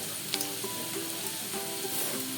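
Thankuni leaves and potatoes fry in a pan, giving a steady close sizzle with soft stirring clicks throughout, no talk.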